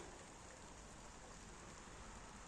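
Light rain begins to fall outdoors in a garden among tomato plants, a soft even hiss of drops, faint and steady without a break, with no talk over it.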